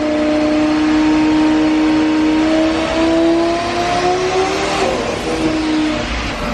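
A twin-turbo Lamborghini engine holds steady on a dyno at about 3,500 RPM, a loud continuous drone with a sustained tonal hum that shifts slightly in pitch, close and unbroken throughout.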